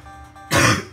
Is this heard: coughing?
yes